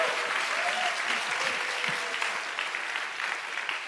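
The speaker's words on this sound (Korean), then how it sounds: "우리 큰 박수로 환영해 주시기 바랍니다" A church congregation at a joint worship gathering applauds to welcome the pastor, Yoo Ki-seong, to the pulpit. Broad, sustained clapping fills the room at a steady level, with faint voices underneath.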